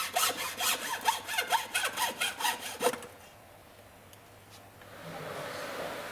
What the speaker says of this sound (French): tu découpes avec une scie à fines dents la lame dans l'espace le plus court.